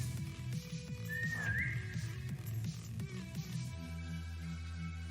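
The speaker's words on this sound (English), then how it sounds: "I don't like that whistling noise." A thin whistling tone rises and wavers briefly over a steady low hum and throbbing drone, fairly quiet, with a background tone shifting partway through and no speech.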